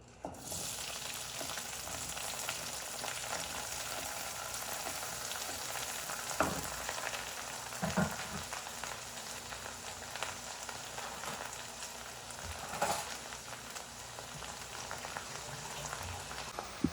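Onions, curry leaves and green chilies sauté in coconut oil in a pan, giving a steady, close sizzle and bubbling with a few soft stirring knocks throughout.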